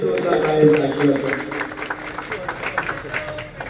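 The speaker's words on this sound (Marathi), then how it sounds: "एका महाराजांसाठी जोरदार टाळ्यांचा आशीर्वाद." An audience claps for a singer at a bhajan double-bar performance, a dense burst of applause that fades out beneath a voice speaking over it.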